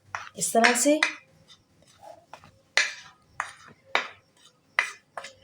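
Cornflour is mixed in a bowl for coating chicken wings, with sharp intermittent clinks and scrapes of utensil on dish between short pauses, and a person speaking briefly at the start.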